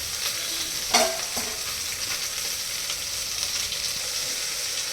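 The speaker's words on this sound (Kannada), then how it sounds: "ನೋಡಿ ಈ ಥರ ತರಕಾರಿ ಎಲ್ಲ ಫ್ರೈ ಆಯಿತು" Carrots, beans, potatoes, peas and tomato sizzle steadily while frying in a pan for simple masala rice, with one sharp spatula scrape near the start and a continuous hiss throughout.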